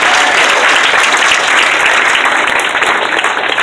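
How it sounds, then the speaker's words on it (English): An audience at a hypnosis show claps loudly for a volunteer, a dense, close, steady burst of applause with no talk over it. "Give him a big round of applause."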